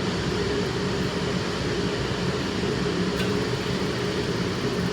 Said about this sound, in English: you can already see the sizzle going on